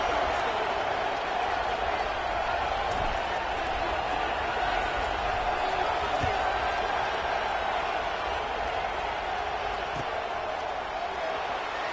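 A large football stadium crowd roars in a steady, dense wash of cheering during a college game, continuous and fairly loud throughout, with no distinct peaks and a commentator's voice running over it.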